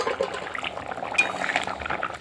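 Potatoes are stirred in a simmering pot of fish curry, giving soft wet scraping and faint utensil clinks close by.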